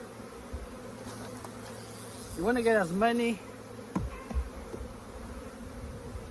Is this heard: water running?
no